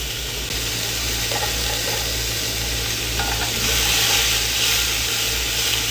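Onion and garlic sizzle in hot frying oil for chicken kabsa, a steady, loud crackling hiss that carries on throughout with a little stirring.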